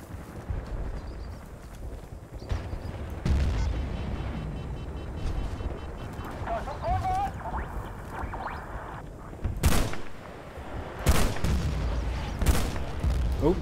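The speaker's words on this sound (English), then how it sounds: "Ooh, mortar." Mortar fire in Battlefield: Bad Company 2, Vietnam Operation Hastings: a few heavy, sharp blasts late in the stretch, spaced out and loud above a rumbling battlefield bed with scattered gunfire and brief voices.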